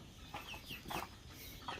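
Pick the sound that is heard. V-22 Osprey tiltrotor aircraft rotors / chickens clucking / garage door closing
chickens clucking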